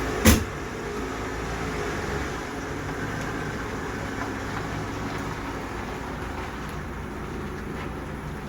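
A late-1980s Ford, such as a Crown Victoria, pulls out and drives off, giving a steady engine rumble that holds throughout, with a brief thump at the start and no talk.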